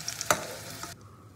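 Potatoes fry in hot oil in a home kitchen while being stirred and lifted out for a Bengali fish curry, a soft close sizzle with a sharp scrape of the utensil, then the frying fades quiet.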